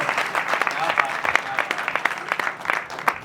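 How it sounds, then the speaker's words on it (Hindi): Enthusiastic audience applause at a Hindi kavi sammelan poetry recital in Sabalgarh, a dense steady clatter of many hands clapping close by for the whole stretch with scattered sharp claps, no talk over it. "तालियां उठनी चाहिए"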